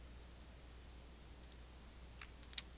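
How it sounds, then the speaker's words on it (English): A computer mouse clicks a few times, faint and brief against a steady low hiss, with one slightly more distinct click near the end. "I'm going to click OK"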